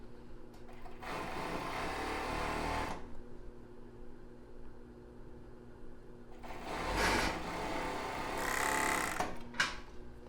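An overlock sewing machine stitches a lingerie seam in two separate runs, a fast, even whirring hum up close, with a quiet pause between the bursts.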